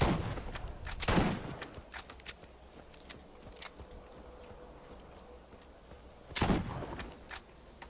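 Shotgun blasts in the Borderlands video game, two loud sharp bursts a few seconds apart over a busy bed of game effects and scattered clicks, with no talking.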